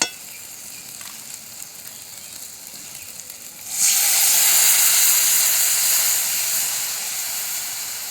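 Water poured into a hot pan of fried spices while cooking village-style mango shol fish, bursting into a loud, steady hissing sizzle midway that slowly eases off.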